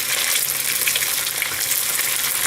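Vegetarian meatless kibbeh frying in hot oil, a dense, steady crackling sizzle that is loud and constant throughout with no talk.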